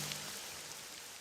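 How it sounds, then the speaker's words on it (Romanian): Rain falls in a cartoon, a steady soft hiss of drops that continues evenly throughout, faint and alone with no voices. "Rainbow Dash, ce e cu ploaia asta?"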